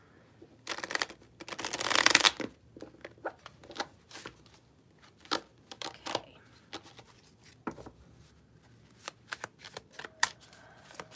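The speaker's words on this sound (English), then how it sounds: "So let's give it one more shuffle." Tarot cards being shuffled by hand, a loud riffling burst near the start followed by scattered softer card slaps and taps, close up, with one brief spoken word.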